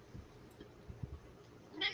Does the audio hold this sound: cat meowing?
yes